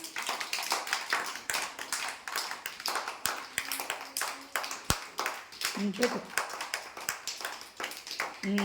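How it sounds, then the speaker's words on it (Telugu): A group of children in an Anganwadi preschool class clap steadily in a rapid, uneven patter that runs throughout, with an adult voice talking over it. "claps only claps"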